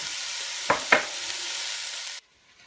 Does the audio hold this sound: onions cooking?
yes